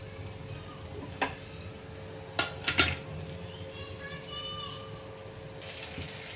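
Soft, faint sizzling of Bombay duck fish frying in a pan, broken by several sharp metallic clinks and scrapes of a utensil against the pan.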